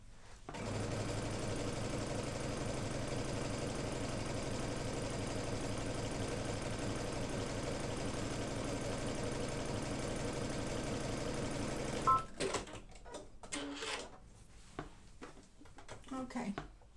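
A sewing machine runs a steady zigzag stitch along the edges of knit fabric, a close, continuous mechanical whir lasting about twelve seconds before stopping abruptly, followed by quieter handling sounds.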